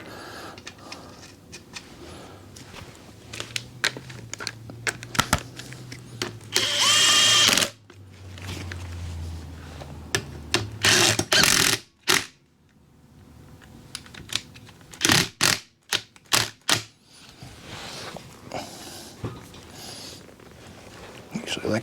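Metal nuts threaded onto fender bolts and snugged down on a Garelli SSXL moped wheel, a run of close, irregular clicks, rattles and ratcheting bursts with a few louder clattering spells and brief pauses.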